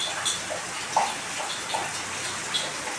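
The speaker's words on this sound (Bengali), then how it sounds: "কী হারে বৃষ্টিটা পড়েছে" Heavy rain pours down outdoors, a continuous wash of water with scattered louder drops and splats, no voices over it.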